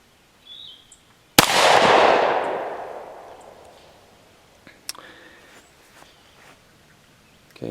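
A single loud shot from a Taurus Judge Public Defender Poly revolver fired at target sheets cracks sharply and rolls off in a long fading echo, followed by faint clicks and handling noises.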